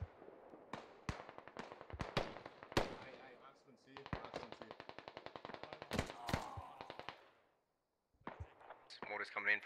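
Rapid bursts of gunfire and heavy impacts crack through a tactical military shooter match on the Fools Road map, irregular volleys clustered in dense runs, then a brief lull before more shots resume.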